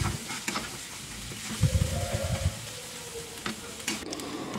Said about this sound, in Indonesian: Setelah itu aku tumis bumbu yang udah aku halusin tadi.